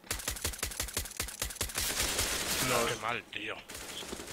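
Rapid bursts of video game gunfire crack out in a fast rhythm on the map Nuke, followed by a muffled blast and rumble, with a voice talking over it in Spanish.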